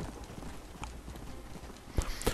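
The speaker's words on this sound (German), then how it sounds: "Pferdchen!" A horse's hooves clip-clop in the video game Red Dead Redemption Undead Nightmare, a soft irregular stream of steps that grows into a few louder, closer thuds near the end.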